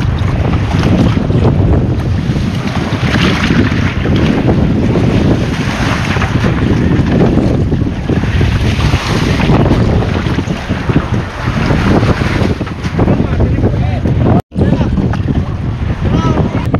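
A small leaking boat rides rough sea in loud, gusting wind, waves sloshing and wind roaring across the microphone, with voices faintly mixed in.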